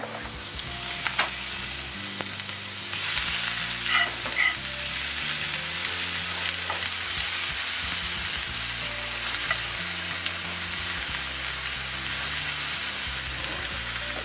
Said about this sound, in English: We're going to add our onions, and then after a little bit we're going to add our tomatoes